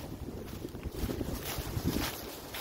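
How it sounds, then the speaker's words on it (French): Wind buffets the microphone in uneven, rumbling gusts outdoors in the Yonne, France, loud low thumps rising and falling for a few seconds with no one speaking. "désolé pour le vent"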